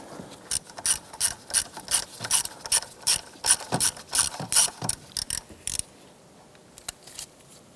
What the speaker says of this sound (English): I'm going to loosen and remove this bolt.